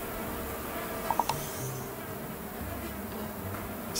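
Insect-like buzzing of bees in the video game Kaku: Ancient Seal, a steady low drone with a few brief clicks, heard over faint game ambience.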